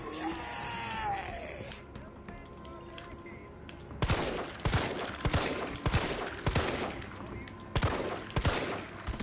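Gunfire from the 2020 Resident Evil 3 demo on PS4 rings out as a series of sharp, evenly spaced shots that start midway and keep going, following a stretch of quieter game sounds.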